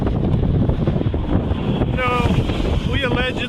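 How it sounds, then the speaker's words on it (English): Strong wind on an outdoor bridge roars and buffets against the microphone in a steady, loud, rumbling rush that lasts throughout. "It's quite windy."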